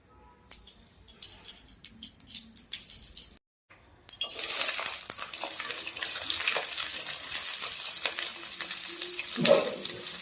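Vegetables hit hot oil in a kadai on a gas stove for veg idli, bursting into a loud, steady sizzle after a few clinks and a brief pause, with scraping stirs running through the frying.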